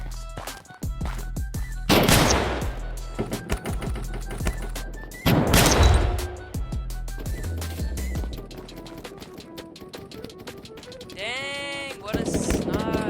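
Light sniper and magnum pistol shots in a Minecraft-like game: two loud, sharp blasts a few seconds apart among smaller clicks and bangs, ending with a warbling electronic tone.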